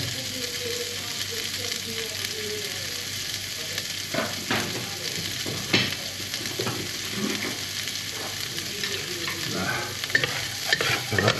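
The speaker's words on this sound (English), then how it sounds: "let's add the minced shallots, some of the green onion," Minced shallots, green onion and garlic stir-frying in a pan for Thai cashew chicken, a steady close sizzle broken by repeated scraping and stirring clatters, with no talking.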